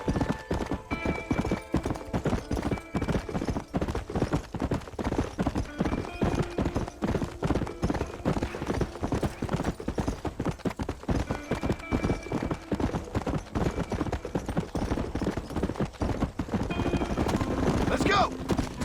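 A horse gallops in Red Dead Redemption 2, its rapid hoofbeats running steadily and close for the whole stretch, with a low background rumble. A voice speaks in a few places.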